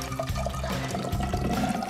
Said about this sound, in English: There you go, I'm gonna pour.